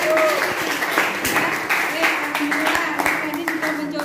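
A classroom full of people claps in steady, dense applause that carries on throughout, with some voices mixed in.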